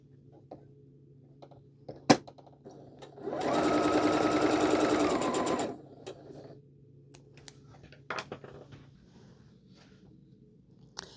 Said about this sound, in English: we're going to sew back down on the other side